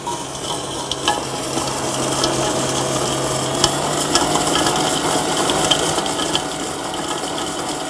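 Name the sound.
beating butter and two kinds of sugar together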